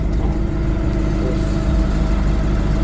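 A Toyota 6-tonne diesel forklift idles with a steady low rumble while its hydraulics raise the carriage, a continuous engine drone with no pauses, close and fairly loud.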